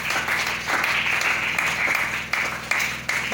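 Church congregation applauding in praise, dense continuous clapping that holds fairly loud throughout with a few sharper claps toward the end.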